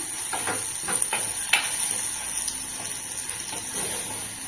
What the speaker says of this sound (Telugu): లేకపోతే గట్టిగా అయితే అయిపోతుంది చాలా బాగా ఫ్రై చేయాలి ఇలా చాలా ఫ్రై అవ్వాలండి